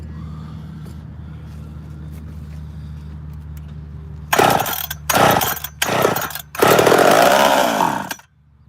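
A chainsaw engine sits on a low idle, then revs up hard in several loud, rasping bursts separated by short drops before cutting out, all up close.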